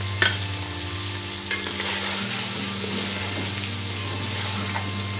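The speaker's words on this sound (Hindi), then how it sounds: "अब इसको भून लेंगे।" Beef biryani masala with nutmeg, mace, ground coriander, salt, chili, turmeric and garam masala sizzles steadily in a pot while a spoon stirs and scrapes, with a metallic clank at the start.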